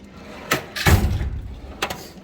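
A metal toolbox drawer full of electrical parts and gauges slides on its runners with a heavy rolling rumble and a thud, followed by a lighter clack shortly after.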